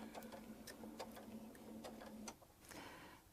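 Sewing machine stitching straight across quilt fabric for a Baptist fan design, a quiet rapid ticking of the needle over a low motor tone that stops, then a few lighter clicks follow.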